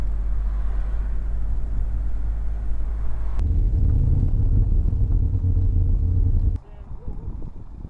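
Low engine rumble and road noise inside a van travelling along a road, shifting to a different droning tone partway through and dropping in level near the end, with people talking over it.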